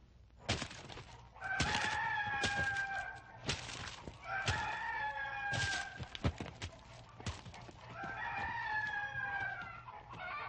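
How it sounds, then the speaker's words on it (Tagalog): Roosters crow in several long, loud calls, mixed with chickens clucking and scattered fowl noises, close by and with no voices over them. "Mukhang mahina ang kondisyon ng mga manok natin"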